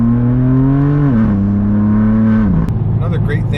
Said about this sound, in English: I'm gonna have to figure something out about how loud this exhaust system is